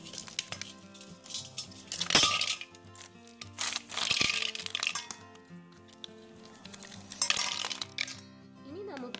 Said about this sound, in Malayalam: അത് നമുക്ക് വലിയൊരു പാത്രത്തിലേക്ക് നമുക്ക് ഐസ് ക്യൂബ്സ് ഇട്ടെടുക്കാം.